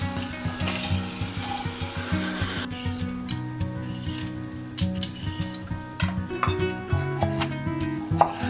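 Ghee melting and frying with garlic in a 10-inch pan gives a steady sizzle with scraping and rubbing sounds, plus occasional utensil clinks.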